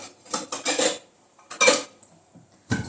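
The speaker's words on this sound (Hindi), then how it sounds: "कटोरी लेती हूँ" A steel bowl is picked up from a stack of dishes in a home kitchen, giving a few short, close metallic clinks and scrapes in separate bursts, with no talking.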